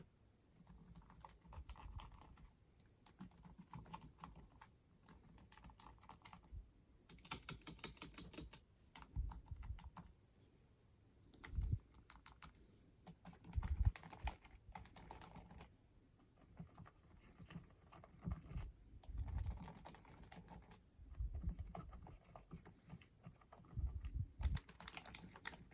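Steady typing on a Walmart-brand computer keyboard, a continuous patter of key clicks with occasional heavier thumps, close and fairly quiet, with no voices.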